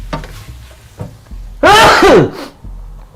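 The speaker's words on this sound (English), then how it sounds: "Probably was not nice to hear me sneeze like that, so loud." A single loud, explosive human sneeze close to the microphone, with faint kitchen clatter before and after it.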